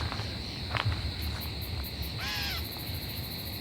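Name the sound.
bush katydid calling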